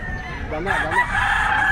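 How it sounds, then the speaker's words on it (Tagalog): A fighting rooster crows among other fowl at the Bocaue pet market, a single drawn-out call rising over the busy background of the stalls, with a few clucks mixed in. "tingnan natin itong kanyang tinintindang panabong na manok"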